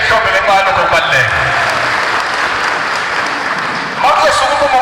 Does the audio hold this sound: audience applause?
yes